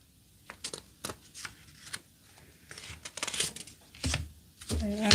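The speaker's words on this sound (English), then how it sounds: "I gotta figure out how to shuffle these up" Tarot cards being shuffled by hand, giving bursts of papery riffling and flicking that grow denser toward the end, with a faint voice in places.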